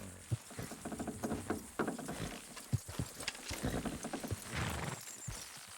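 Horse hooves clip-clopping in Red Dead Redemption 2, a steady patter of several hoofbeats with occasional heavier thuds, moderately close over a rumbling ambient bed.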